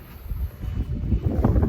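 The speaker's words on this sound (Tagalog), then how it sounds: "Mahangin pa siya." Strong gusting wind roars steadily outdoors during a December snowstorm, buffeting the microphone with low rumbling noise and no talk.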